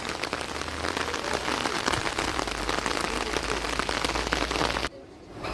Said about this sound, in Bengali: যা বৃষ্টি হলো